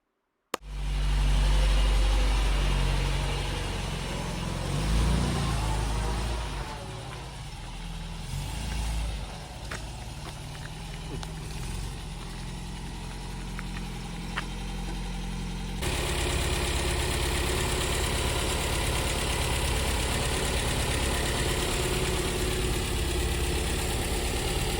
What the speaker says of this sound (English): Here we are, choke fully off now. Really nice idle.